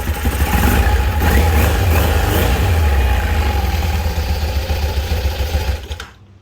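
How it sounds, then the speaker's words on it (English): A Kawasaki Concours GTR ZG1000 motorcycle engine runs on choke, a loud, steady close-up idle with a deep rumble that holds for several seconds before abruptly cutting out. "let's go ahead and turn key on. Let's put the choke on, and let's fire it over."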